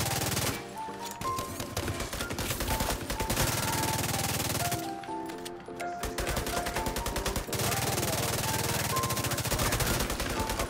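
A light machine gun in The Division 2 fires long, rapid sustained bursts, a dense rattling stream of close shots that pauses briefly twice before resuming, with game music or tones running underneath.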